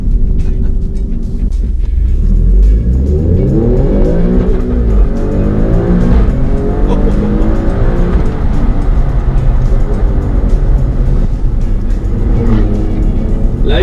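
Alfa Romeo Stelvio Quadrifoglio V6 engine revving hard under acceleration, rising and falling pitch with gear changes, loud and continuous from inside the car with no talking.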